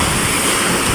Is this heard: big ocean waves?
yes